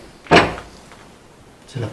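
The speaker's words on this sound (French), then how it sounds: "C'est la poignée de la porte qui a fait ce bruit-là." An office door's handle gives a sharp, close rattling clack, then a second, softer clatter near the end, with quiet room tone between.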